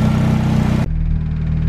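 A car engine idles steadily and loudly close by, giving a continuous low rumble that drops in tone and loses some hiss partway through, with no talking.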